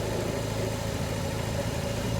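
A BMW R18 Transcontinental First Edition motorcycle rides in sixth gear, its big boxer engine giving a steady low drone mixed with wind rush, without any talking.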